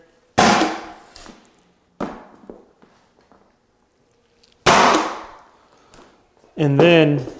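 A pneumatic flooring stapler fires staples into hardwood flooring over an OSB subfloor: a few sharp, loud bangs with decaying rings, separated by quiet gaps, followed by a burst of nearby speech.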